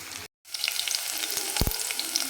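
Chopped onion sizzles and fries in a spoonful of hot oil, the tempering for a mutton gravy, with a steady close crackle after a brief silence and a few stirring knocks near the end.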